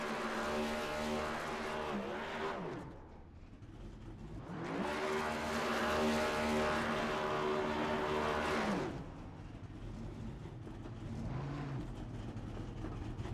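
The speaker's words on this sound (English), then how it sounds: "Having a hard time being able to finish out some of these burnouts here" A race car does burnouts at Charlotte Motor Speedway in a racing video game, with long roaring engine revs and tire squeal rising and falling in two sustained bursts.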